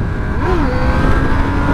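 Honda Hornet motorcycle engine accelerating hard at high speed, a loud steady roar with a rising then settling pitch, heard close up without talk.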